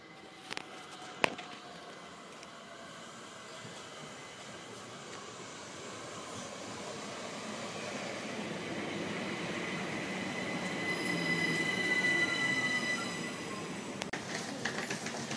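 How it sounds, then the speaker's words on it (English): A train rumbles in and passes close by, its noise swelling steadily with metallic squeals and clatter, no talking. "Here's my train."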